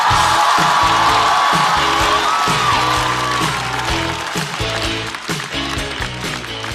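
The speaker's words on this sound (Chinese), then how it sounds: "掌声欢迎雪冰" A studio audience at a stand-up comedy show breaks into loud, sustained applause with some cheering to welcome a comedian, the clapping dense at first and then thinning slightly toward the end.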